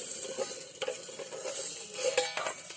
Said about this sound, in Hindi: दाल को मैं छौंक देती हूँ